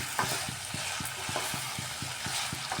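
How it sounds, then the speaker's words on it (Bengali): Mixed vegetables, kohlrabi and potato, with seeds are stir-fried in a pan, a soft sizzle under regular rhythmic scraping of a spatula, about three strokes per second. "বিচিগুলা দিয়েও সবজির সাথে একটু ভালোভাবে কষিয়ে নিচ্ছি এইভাবে"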